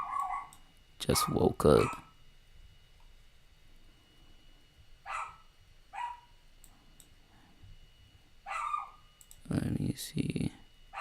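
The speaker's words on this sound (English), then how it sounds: "Sorry if y'all can hear my dog." A household dog barking while someone live-trades at home, a few short sharp bursts spread across the span with a loud cluster near the start and another near the end, close by, with someone speaking quietly in between.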